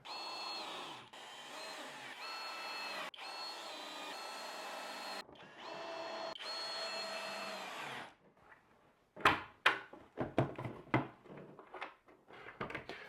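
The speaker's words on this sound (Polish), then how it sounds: "Wkręty, końcówka i przykręcamy." Cordless drill or screwdriver driving screws into a cabinet mounted over a staircase, several long whirring bursts broken by brief pauses, followed by a cluster of sharp knocks and clatter as the work ends.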